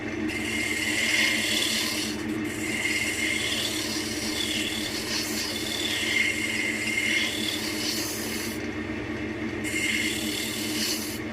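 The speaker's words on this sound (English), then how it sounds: "Let's grab our spindle gouge and make a few." A spindle gouge makes cleaning cuts on a spinning spalted beech piece on a lathe. The scraping rasp is steady and close, with brief breaks in the cutting, and no voice is heard.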